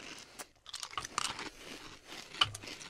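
Crunchy Cheerios cereal being chewed close up, with irregular crisp crunching and biting sounds, fairly quiet and continuous with brief pauses.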